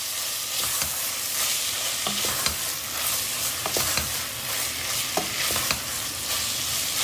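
Tomato paste stirred with peeled tomatoes in a hot pan while cooking okra, giving a steady sizzling hiss broken by repeated scraping and clacking strokes of the spoon, close and unaccompanied by talk.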